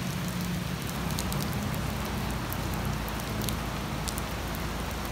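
Rain on a wet morning walk patters steadily, a constant dense hiss of drops hitting surfaces with scattered sharper ticks, close by and with no talking.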